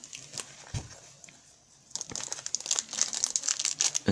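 A Fantasy Riders trading-card booster pack wrapper being handled and torn open: a faint rustle, then close, busy plastic crinkling and crackling for the last two seconds.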